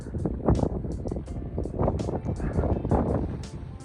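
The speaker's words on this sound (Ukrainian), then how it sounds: "Вітер дує." Gusty wind buffets the microphone in uneven rushes and roars, loud and close, with no voices, on a snowy mountain above Königssee.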